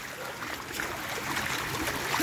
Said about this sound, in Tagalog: Dito dumaan yung tubig. Mula doon sa bundok.